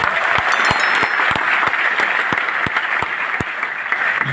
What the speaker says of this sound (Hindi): एक बार जबरदस्त तालियां हो जाए।